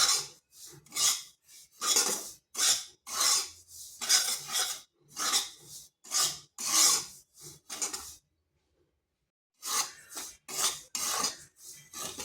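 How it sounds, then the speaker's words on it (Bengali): Dry semolina roasts in a pan while a spatula scrapes and stirs it in rhythmic, close strokes, about a dozen scraping bursts broken by a short silent pause, with no voices. "তিন থেকে চার মিনিট এইভাবে শুকনো খোলাতে ভেজে নিতে হবে"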